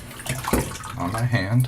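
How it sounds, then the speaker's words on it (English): Fresh tap water runs and splashes onto a hand at a bathroom sink during a wet shave, a short close pour heard under a man's speech. "I'm going to get a little bit of water,"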